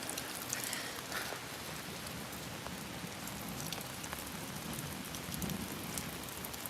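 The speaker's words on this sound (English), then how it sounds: "What stinks is I don't have an umbrella for this rain." Heavy rain pours steadily during a lake effect thunderstorm, a dense, constant hiss and patter of drops close by with no voices.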